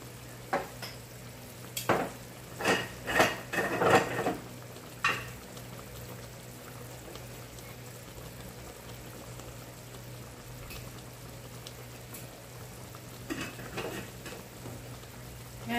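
Adobo simmers in a pan just after about two tablespoons of Datu Puti white vinegar go in, giving a soft steady sizzle and bubbling with a few brief louder bursts of stirring or splattering. No one speaks.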